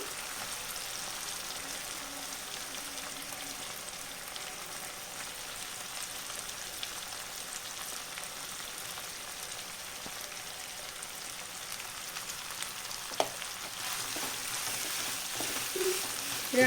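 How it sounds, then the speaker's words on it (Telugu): Onions frying in hot oil in a pan after dried shrimp for a tomato curry, giving a steady, soft sizzle throughout with a few faint stirring clicks near the end. "ఇప్పుడు నేను ఆనియన్స్ కూడా వేసేసుకుంటున్నాను"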